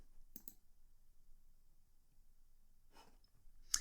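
Sharp mouse clicks on a run button in a coding editor during a CSS lesson, two quick clicks near the start, another soft pair later and a final click, all faint and isolated in an otherwise quiet room.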